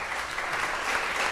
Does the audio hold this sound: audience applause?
yes